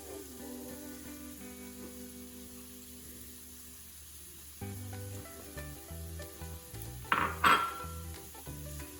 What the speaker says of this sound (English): Now immediately mix after you do this, and make sure you put this on low so no clumps form.